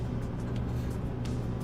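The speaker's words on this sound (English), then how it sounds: "Let's start the engine" Heavy truck engine in Euro Truck Simulator 2, running with a steady, dense low rumble and a constant drone, close and even throughout with no pauses.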